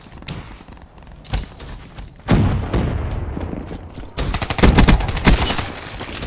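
Bursts of gunfire from a picked-up weapon in an online shooter video game, loud rapid volleys with short gaps, heavier sustained firing toward the end, plus thumps and booms.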